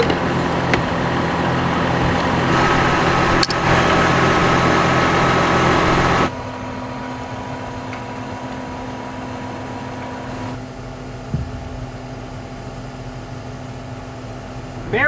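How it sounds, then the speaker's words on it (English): A brand new tractor's engine runs loudly for several seconds, then drops to a quieter low idle hum that continues steadily to the end. "This is a brand new tractor."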